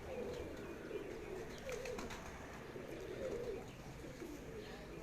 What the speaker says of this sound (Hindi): है जी बादशाह कबूतर है जी।